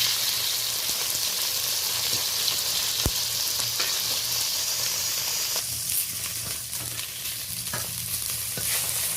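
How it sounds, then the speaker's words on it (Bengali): Four pieces of soft Bhola fish fry in hot oil in a wok, giving a continuous, even sizzle and hiss with an occasional sharp tap from stirring, alone and close. "ভোলা মাছ নরম জাতীয় মাছ, এই জন্য একটু শক্ত করে ভেজে নেব, একেবারে লাল লাল করে ভেজে নেব।"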